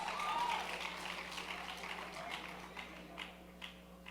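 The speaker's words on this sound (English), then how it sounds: "Wow, what applause for this lady." Audience applause at an annual corporate awards ceremony, a steady, fairly faint wash of clapping from a crowd that holds evenly and then thins, with a few individual claps standing out near the end.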